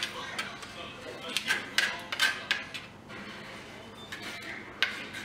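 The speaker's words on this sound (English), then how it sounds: "And I'm just slicing it down here, cutting it both ways" A knife slices tomato for shrimp tacos on a cutting board, giving scattered sharp taps and clicks in short irregular clusters, close but fairly quiet, with low background noise.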